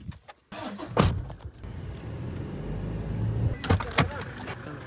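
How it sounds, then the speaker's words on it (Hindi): A Toyota Fortuner SUV with a door thud and a power window motor whirring nearby, followed by more clunks and handling sounds, with voices talking faintly in the background. "चलो फॉर्च्यूनर में आ जाएगा।"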